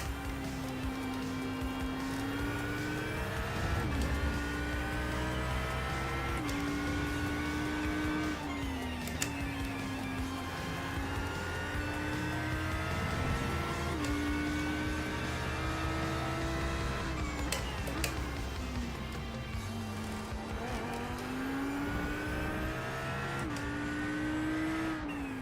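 Racing car engines in iRacing at the Hungaroring, with a Porsche close behind: a continuous loud engine drone rising and falling through gear changes and revs, layered with other cars nearby, no talk.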